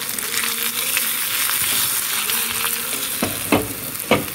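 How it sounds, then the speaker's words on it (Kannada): Crushed garlic and chilli pieces frying in oil and ghee for a tempering, a steady close sizzle with a few sharper crackles and a stirring clink near the end. "ಬೆಳ್ಳುಳ್ಳಿಯನ್ನು ಜಜ್ಜಿ 2 ಚಮಚ ಎಣ್ಣೆಯಲ್ಲಿ ಎಣ್ಣೆ ಮತ್ತು ತುಪ್ಪವನ್ನು ಸೇರಿಸಿ ಒಗ್ಗರಣೆ ಮಾಡ್ತಾ ಇದ್ದೇನೆ"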